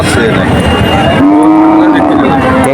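A bull at the Shahpur cattle market moos loudly and close, one long drawn-out low call over the constant noise of a busy crowd.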